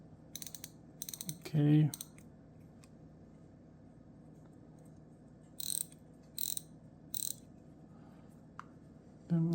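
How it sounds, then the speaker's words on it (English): Parts of an Abu Matic 276i fishing reel are fitted by hand as the spool goes onto its shaft, with a few short clicks and mechanical clacks separated by quiet stretches, close up, and one brief spoken word. "Put this little spool spacer on there and put a little bit of grease on there. Then put our spool on."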